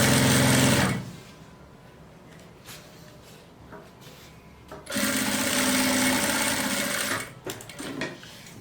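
Sewing machine runs in two bursts, stitching a seam along the edge of a fabric pencil case, loud and close, with quiet handling noises in the pause between.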